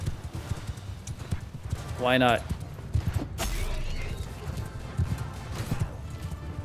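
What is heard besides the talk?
horses trotting in video game Mount & Blade II Bannerlord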